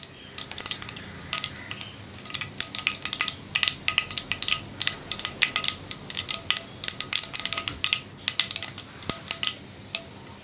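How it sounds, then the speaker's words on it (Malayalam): Mustard seeds crackle and pop in hot coconut oil in a pan, with rapid, irregular sharp snaps that run steadily for several seconds over a low background hiss, close and with no talk. "കടുകൊന്ന് പൊട്ടി വരട്ടെ."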